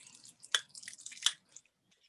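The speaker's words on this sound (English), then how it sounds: "Usually we just stir that for quite a long time" Seasoned ground pork mince is stirred in a bowl, giving soft, wet squelching and sticky slaps in quick irregular bursts, with two sharper squishes standing out, all quiet and close with no talking.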